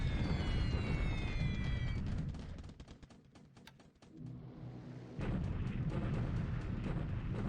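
Heavy bombing explosions on Bataan in the War in the Pacific strategy game, a dense roaring rumble of blasts that dips briefly, then returns loud and continuous.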